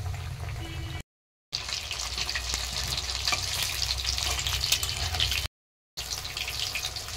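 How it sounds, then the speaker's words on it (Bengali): Steady, close sizzling of fish cutlets frying in oil in a pan, a continuous crackling hiss with brief gaps, no talking. "তো এখন ফিশ ফ্রাইগুলো ভেজে নেব।"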